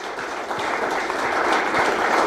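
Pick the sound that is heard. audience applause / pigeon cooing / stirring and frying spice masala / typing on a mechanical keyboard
audience applause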